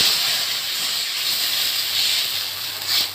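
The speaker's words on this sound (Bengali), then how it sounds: "ওই মাছের তেলের মধ্যে আমি ঝোল দিয়ে দিচ্ছি" Broth poured into hot oil left from frying tilapia fish for a gathi kochu curry, a loud, steady hissing sizzle that holds for about three seconds with a slight surge near the end.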